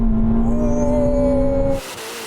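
A Ferrari SF90 accelerating hard in a drag race, a loud close engine drone with a steady rising tone that cuts off abruptly near the end, no talk.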